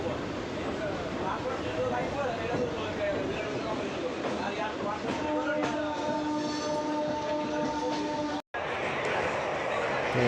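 A passenger train pulls out of Bhadrak railway station, its steady rolling rumble and wheel clatter filling the scene with a sustained horn-like tone partway through, while people talk nearby.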